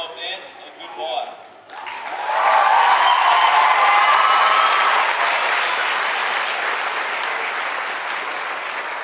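An audience at a Year 12 school dance performance breaks into loud applause and cheering, following a brief voice at the start; the clapping and shouts swell quickly and hold steady, dense and sustained.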